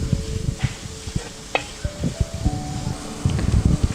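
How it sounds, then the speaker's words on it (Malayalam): Onions sautéed with turmeric and curry leaves in a pan for Kottayam-style tapioca biryani give a low, steady sizzle broken by frequent close clicks and scrapes of a spoon stirring against the pan. "ഒരു 2 കറിവേപ്പിലയും കൂടെ ഇട്ട് കൊടുത്ത് നന്നായിട്ട് വഴറ്റിയെടുക്കാം"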